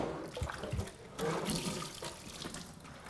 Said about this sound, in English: turn on the nice cool water and rinse your grill